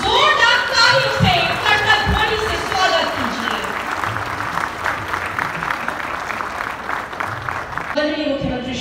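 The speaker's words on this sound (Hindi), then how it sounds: "आपसे अनुरोध की जोरदार तालियों से" Audience at a foundation stone ceremony for the PMCH hospital expansion in Bihar breaking into sustained applause after a man's announcement, clapping filling the middle before his voice returns over a public address.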